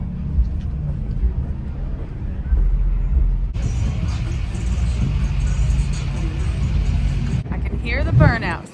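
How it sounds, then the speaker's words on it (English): A car doing burnouts rumbles in the distance, a steady roar with a harsher, brighter stretch of tire squeal in the middle, heard from nearby traffic while people chat over it. "Hear the burnouts"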